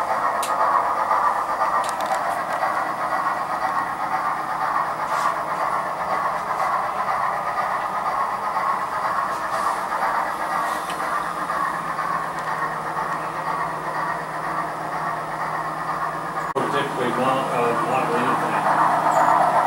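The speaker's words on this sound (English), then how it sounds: "And here comes our little train out of the helix." A small Sn3 narrow-gauge model train rumbles steadily along its track emerging from a helix, a continuous rolling hum with faint clicking, with a brief shift in tone near the end.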